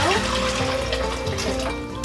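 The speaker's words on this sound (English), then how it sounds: "add 4 cups of water into a large pot" Water from a tap splashes and gurgles as it fills a large pot on a home stove for tea, running steadily and close by while a person talks over it.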